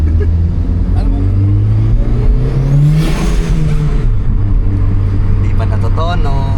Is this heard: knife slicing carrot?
no